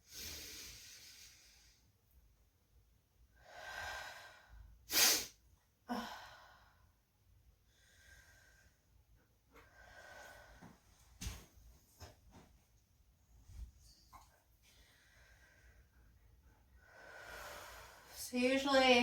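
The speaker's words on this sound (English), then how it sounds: "we're going to take a couple deep breaths" Slow, deep breaths during a gentle yoga session: a few soft, drawn-out inhales and exhales come at intervals, fairly quiet and close, with faint background noise between them.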